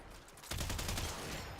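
Rapid automatic gunfire in the video game Warframe, a fast continuous burst starting abruptly and rattling on steadily, fairly quiet in the mix with no talking.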